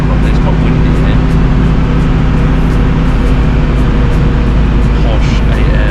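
Inside a moving 1954 Wolseley 6/80, a deep, constant exhaust drone resonates through the cabin with wind noise, loud and steady, under people talking.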